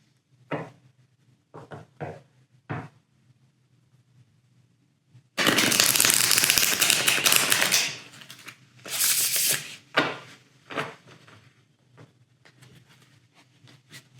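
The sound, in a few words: shuffling tarot cards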